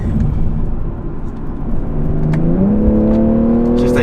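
BMW G20 M340i accelerating hard in a low gear, its engine note rising steadily in pitch from a loud, rumbling drone to a strained, climbing whir that keeps building to the end.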